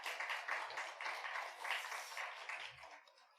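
Faint, steady applause from a congregation during a Sunday worship service at a Korean Methodist church, a continuous soft patter of many hands that tapers slightly toward the end.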